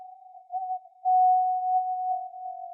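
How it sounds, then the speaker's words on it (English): Soloed ringing note from an EDM mix: a single sustained pure tone held steadily, swelling louder partway through and continuing alone with no other sounds. "But that note is just ringing, and it doesn't need to ring."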